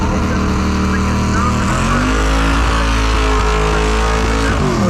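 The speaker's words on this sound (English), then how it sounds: "Paul's making a good run down the right side" Drag race car making a run down the right side of the strip at Byron Dragway, a loud, sustained engine roar shifting pitch as it pulls away, with an announcer talking over it.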